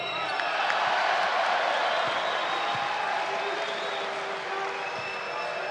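Broad crowd noise fills a basketball arena during an Iceland versus Greece FIBA EuroBasket 2017 game, a steady moderate roar with scattered shouts and faint bounces, no sharp bursts of cheering.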